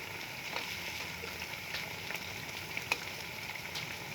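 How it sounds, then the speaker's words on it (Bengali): Bengali eggplant fritters (begun chop) frying in hot oil, a steady soft sizzle with small pops and crackles, fairly quiet and continuous throughout. "আমি আজকে বেগুনের চপ ভেজে দেখাচ্ছি"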